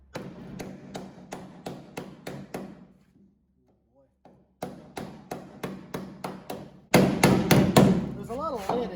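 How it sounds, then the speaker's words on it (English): A small flat hammer beats dents out of lead-filled auto body sheet metal: a run of sharp, evenly spaced metallic blows, a short pause, then quicker, louder strikes, with a brief voice near the end. "Here's a smaller flat hammer with less dents,"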